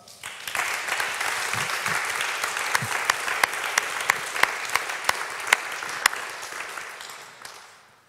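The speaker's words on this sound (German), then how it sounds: "geben dir einen großen Applaus" Audience applause after a personal testimony at a Christian gathering: clapping swells in quickly, stays full and even with some crisp individual claps, then fades away over about eight seconds.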